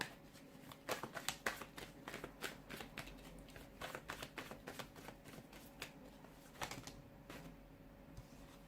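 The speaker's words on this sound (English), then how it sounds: "give the cards a shuffle" Playing cards are shuffled in quick rippling bursts, a run of crisp riffles and taps close by, fairly quiet overall.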